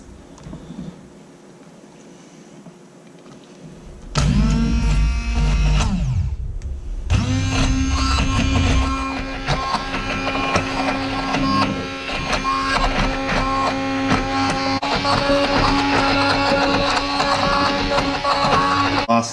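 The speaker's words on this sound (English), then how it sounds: "what I'm going to do now is smooth that out. With my mixer thing here, whizzer," An electric hand mixer whizzes satay sauce smooth with a steady, loud mechanical whine that starts abruptly and runs continuously at close range.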